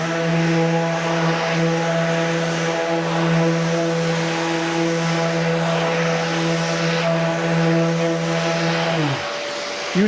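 A Festool sander runs with dust extraction attached, giving a steady, close motor whine and hum that holds for about nine seconds before winding down near the end.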